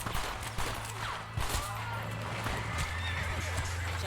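A horse whinnies and hooves clop in the video game Red Dead Redemption, amid busy gameplay noise with a low hum and scattered sharp bangs, while a voice speaks faintly underneath.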